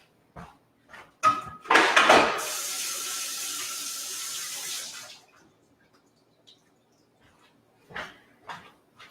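A kitchen sink tap gushes over freshly handled beets for about three seconds, a close steady hiss framed by clunks and knocks of bowls and handling before and after.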